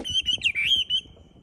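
A caged Chinese hwamei songbird sings in cold winter weather around 8°C, giving a short, loud, close phrase of clear whistled, warbling notes that rise and fall, alone without talk.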